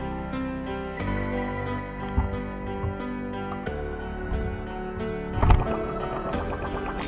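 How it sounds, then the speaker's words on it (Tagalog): A Suzuki Raider 150 motorcycle engine idling with no exhaust pipe fitted, a loud, steady, raw mechanical drone with a couple of brief revs, close by and with no talking. "So wala pa siyang tambutso, kaya ganyan yung tunog ng andar niya."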